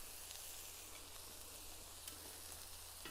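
Eggplant sizzles on a Twok Grill, the Original Texas Wok, in a steady, even frying hiss with faint crackles, continuous and moderately quiet with no talk.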